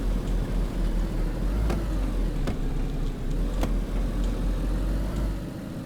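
A car driven on gravel in the game DayZ, with a steady low engine rumble throughout and a few sharp ticks and clicks over it, close and fairly loud, fading slightly at the end.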